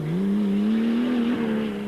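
A rally car races along a sandy, twisty road in the Toyota 1000 rally, its engine holding a loud, steady high drone with a brief shift in pitch. It is heard close, alone, with no talk.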